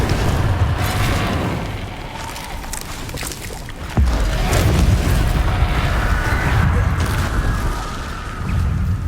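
Fiery spell blasts from Hogwarts Legacy burst in dense, booming whooshes, with a sharp loud impact near the midpoint followed by sustained roaring rumble.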